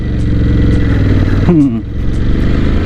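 Engine of a 2022 Ducati Scrambler 1100 twin-cylinder motorcycle pulling from second gear, a steady close, loud drone with a brief rise in pitch partway through as it accelerates, while a rider's voice talks over it.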